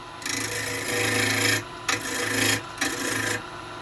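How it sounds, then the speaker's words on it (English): Rough turning a maple bowl blank on a wood lathe with a bowl gouge, bursts of loud scraping cut in three or four passes, with the lathe's low hum running between cuts. "Take a nice bit of wood off, nearly round."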